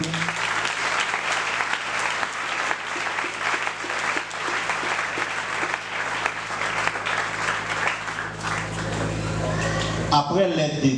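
Sustained applause from an audience at a community gathering, steady and fairly loud for about ten seconds with a low steady hum beneath, tapering into a few voices near the end.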